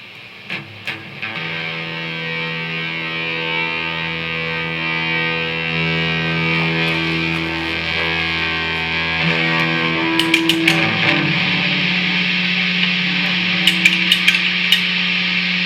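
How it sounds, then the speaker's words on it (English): A looped instrument phrase from a KOOGO loop station plays back through heavy, buzzing distortion, loud and continuous, with a few sharp knocks and clicks layered on top. "turn off that distortion, it's too loud"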